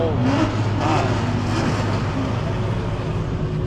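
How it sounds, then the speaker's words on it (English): Car engines rev in busy street traffic, a loud, steady roar of motors close by with rising pulls, while people talk over it. "It's straight motors revving everywhere."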